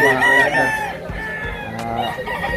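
Roosters and chickens crow and cluck close by at a poultry market, a loud sustained crow at the start followed by softer clucking and fowl calls.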